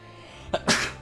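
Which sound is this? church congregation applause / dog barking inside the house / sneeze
sneeze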